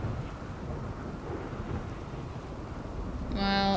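In the game RimWorld, rain and thunder make a low, steady rumbling hiss that runs throughout, with a tonal game sound joining near the end and no voices over it.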